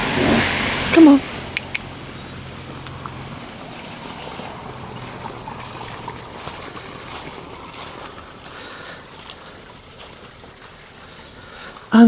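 Cars pass along a road beside a woodland walking path, a steady broadband traffic rush with a few brief knocks and clatters, fairly near and continuous throughout.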